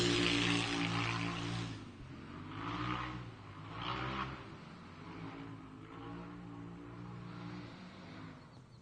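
An Ultra4 off-road race car's engine roars as it approaches during Ultra4 USA racing at Visions Off Road in Jay, Oklahoma, a loud throaty drone with revs rising and falling, heard without talk.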